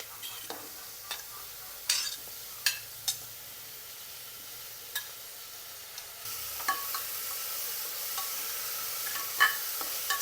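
Onions, potatoes and tomatoes sauté in a pan with a soft sizzle, broken by intermittent scrapes and taps of a spoon stirring against the pan. The frying grows louder and hissier in the second half.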